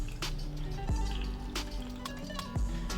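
A small splash of water is poured onto cooked vegetables in a blender, with soft drips and liquid trickles over a low steady hum.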